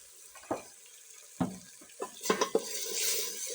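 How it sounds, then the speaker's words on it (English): Village stew with tomatoes is stirred in a pot, a few separate spoon scrapes and clinks against the pot over a faint simmer, ending in a soft hiss. "After that, we stir."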